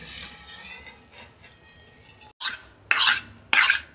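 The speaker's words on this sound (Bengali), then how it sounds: "এই যে এরকম করে হাতা দিয়ে এটা চেঁচে নিতে হবে।" A ladle scrapes thick besan boondi batter in a kitchen, with soft stirring at first and then three sharp, close rasping strokes near the end.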